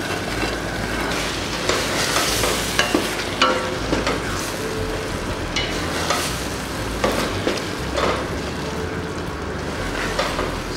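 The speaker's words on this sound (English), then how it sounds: "So that's our eggplant, and it goes into the tomato sauce." Eggplant (garden egg) is stirred into a frying tomato sauce for a Nigerian stew, with steady loud sizzling and repeated scraping stir strokes close up and no talking.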